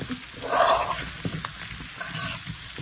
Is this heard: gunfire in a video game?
no